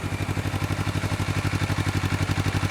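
A Honda CBR250RR motorcycle with its original stock exhaust idles close by, giving a steady, evenly pulsing low engine note with a light mechanical clatter and no talking.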